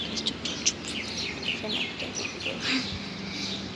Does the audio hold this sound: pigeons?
yes